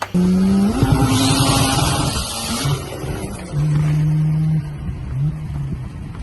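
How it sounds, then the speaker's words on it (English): A Mazda RX-7 race car screams around a racing track, its engine a loud, high, sustained whine that rises and dips with gear changes, heard close and alone. "in the previous video you would have seen when he was racing, I think it was an RX-7"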